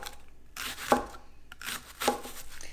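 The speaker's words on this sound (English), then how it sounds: "Just cut it in really thin slices. The thinner the better." Knife slicing vegetables into thin slices for a chicken and pasta dish, two distinct cutting strokes with scraping in between, close and fairly quiet, no talking.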